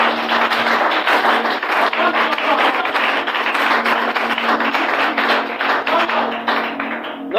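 A church congregation of young worshippers applauding and cheering, a dense, steady wash of clapping that holds loud and even for several seconds without speech.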